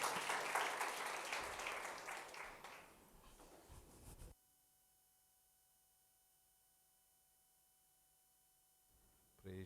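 A church congregation claps to welcome the pastor, a dense burst of applause that fades within about four seconds, leaving near silence.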